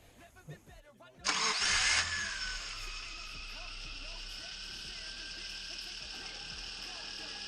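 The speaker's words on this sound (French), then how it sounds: "On va voir un peu de démarreur." A starter motor cranks the engine of a 100NX, a loud whirring burst that settles into a steady whine and hum, with people talking before it starts.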